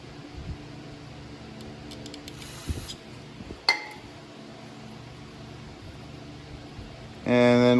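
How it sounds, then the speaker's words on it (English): Carb cleaner sprayed onto a cotton swab while servicing the carburetor of a worn Toro Personal Pace mower: one short hissing burst of about half a second mid-clip, followed by a faint clink, over steady background hum that swells loudly near the end. "with a little bit of carb spray."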